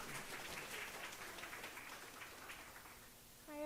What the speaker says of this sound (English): So can everyone please give a round of applause and welcome to Miri.